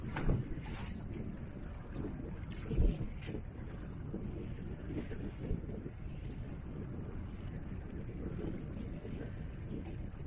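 Wind gusts buffet the microphone on a small squid-fishing boat at sea, a steady rough roar with occasional louder thumps and faint background activity.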